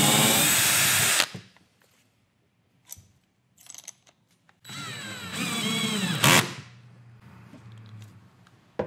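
Power drill driving a drill/drive countersink bit, a loud whirring burst at the start, then short clicks and taps, and a longer second spin that winds down with a thump.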